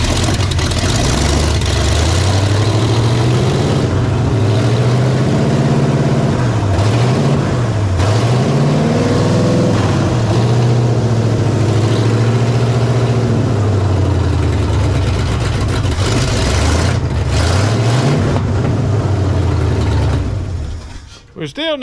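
A 1968 Ford F250 truck engine runs steadily from start to finish, a loud, close rumble with the revs rising and dipping a few times before it cuts off at the very end. Voices are faintly audible beneath it.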